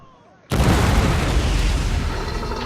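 Cannon blast in the Men of War Assault Squad 2 Union siege of Fort Wagner: after a half-second of near quiet, a sudden heavy boom erupts and rolls on as a loud, sustained rumble to the end.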